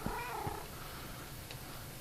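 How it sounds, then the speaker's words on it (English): A Minecraft cat makes a short meow near the start, with a few faint game sounds following over steady background noise. "My cat that I spent several days trying to catch and finally did"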